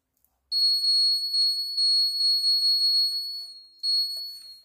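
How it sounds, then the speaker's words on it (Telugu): A continuity tester on a multimeter gives a steady, high electronic beep, broken by brief gaps. It sounds close and clean against a silent background, with no voices. "ఈ వైర్ మనం ఏం చేస్తామంటే ఒక ఎడ్జ్ నుంచి ఇంకో ఎడ్జ్కి పెట్టినప్పుడు మనకి ఇలా బీప్ సౌండ్ వస్తుంది"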